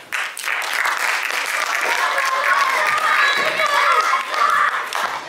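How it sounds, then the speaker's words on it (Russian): An audience applauds at a student contest featuring music, vocal and dance performances, with dense sustained clapping across the hall and a little cheering, starting abruptly and holding steady throughout. "Ваши аплодисменты Ивану Парадис."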